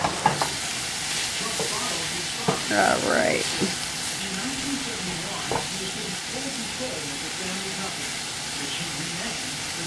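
Frozen broccoli and peas stir-fried with rice in a pan, with a continuous close sizzle and hiss and occasional scraping stirs, while someone speaks briefly over the cooking.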